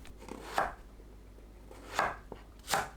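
King oyster mushrooms sliced into rounds with a knife on a cutting board, three distinct crisp chops spaced apart, close and clear over a quiet background.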